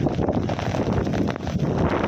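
Strong wind roaring through a jungle at night, a steady dense rush with mic buffeting throughout and no pauses.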